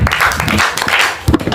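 A classroom of students claps together for a correct quiz answer, a short burst of brisk, fairly close applause with voices mixed in.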